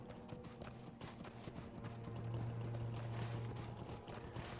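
Horse hooves galloping in the online game Lord of the Rings Online, a rapid steady clip-clop rhythm heard throughout over a low droning background.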